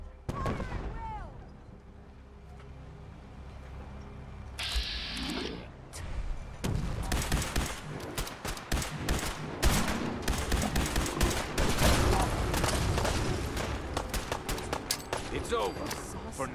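Rapid gunfire erupts in a fogbound battle against Gulpers in the video game Fallout 4, with dense bursts of shots continuing loud and close for many seconds over a shouting voice and game music.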